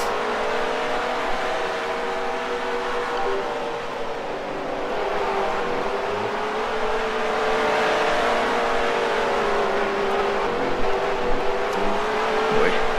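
Race car engines drone steadily through a Second Life dirt race in a video game, a sustained, fairly loud revving roar with slight pitch shifts and no talk over it.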